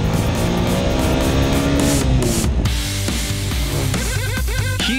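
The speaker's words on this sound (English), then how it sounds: "I felt the engine was a bit strained when shifting beyond the third gear." A TVS Apache RTR 160 4V motorcycle accelerates hard, its engine note climbing steadily loud and close, then dropping and revving again in short bursts as gears change.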